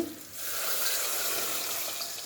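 Dissolved tamarind liquid being poured into a pot of vatha kuzhambu curry, a steady splashing pour that starts after a brief quieter moment and runs continuously to the end.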